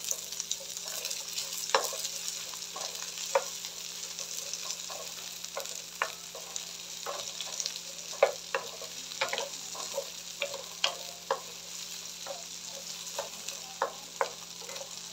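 Onions sautéing in a pan for a coconut-milk crab dish, a soft steady sizzle under repeated light clicks and scrapes of a spatula stirring, close and with no one talking.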